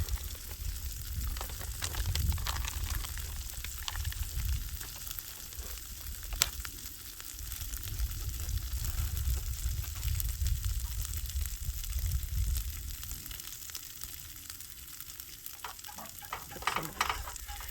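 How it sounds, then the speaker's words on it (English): A tortilla pizza with mozzarella sizzles steadily in a hot pan, a constant crackling hiss with occasional scraping and stirring sounds, close up and without talk. "And here it's sizzling."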